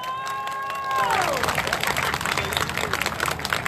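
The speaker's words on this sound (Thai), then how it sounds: "เอาขอเสียงปรบมือหน่อยเร็ว" Crowd at an outdoor political rally in a Rangsit market square, Thailand, breaking into loud applause and cheering that swells after a sustained tone fades, dense clapping continuing steadily to the end.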